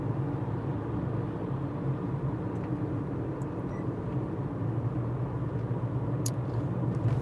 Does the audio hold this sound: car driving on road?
yes